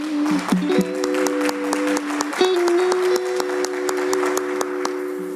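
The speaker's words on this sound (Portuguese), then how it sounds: "Vamos aplaudir ao Senhor." Church congregation applauding the Lord during a worship service, steady clapping running throughout over held keyboard-like tones that shift pitch, giving a busy, musical backdrop.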